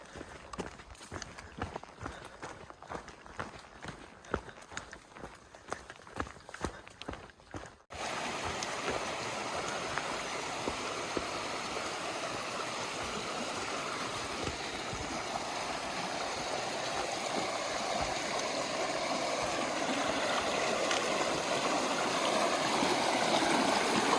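Steady broadband rushing of the James River, loud and continuous, after several seconds of footsteps crunching along the Appalachian Trail.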